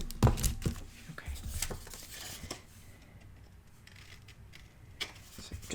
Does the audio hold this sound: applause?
no